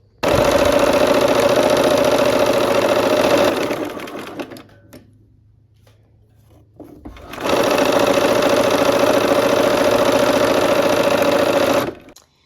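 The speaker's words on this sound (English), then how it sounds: "let's go ahead and sew that seam" A sewing machine stitches a seam on a Nordic Stars quilt, running loud and steady for about four seconds, pausing briefly, then whirring through another long continuous burst up close.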